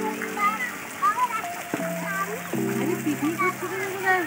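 Water falls from a switched-on outdoor fountain in a park, making a continuous splashing wash under the chatter of people and children nearby.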